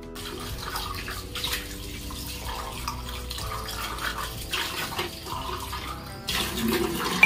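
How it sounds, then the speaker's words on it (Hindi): Dishes from the night before washed under a running kitchen tap in a Bangalore flat, steady splashing water with clinks of utensils throughout, close and moderately loud, with no talk. "बर्तन धोना मेरा रह गया था तो मैं यहाँ पे वही वॉश कर रही हूँ"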